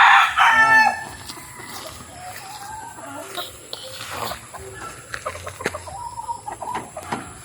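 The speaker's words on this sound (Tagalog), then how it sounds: "So tara mga kabakyard, magpakain natin ng ating mga alagang manok" Pet chickens in a backyard crow and cluck during feeding, with a loud close crow at the start followed by scattered clucks and bird calls, light rustling and occasional splashy noises throughout.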